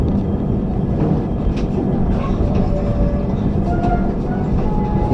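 Tejas Rajdhani Express passenger train pulling out of New Jalpaiguri station, a steady loud rumble of wheels and carriage noise with faint squeals, continuous throughout.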